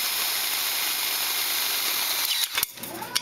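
A power drill grinds steadily against a metal can being made into a camp stove, a close whining whir that breaks off abruptly near the end with a few clanks and scrapes.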